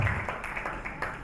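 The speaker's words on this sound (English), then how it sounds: "applause." An audience claps through a short, steady patter of applause at a gathering, close and moderately loud, with a murmur of voices underneath.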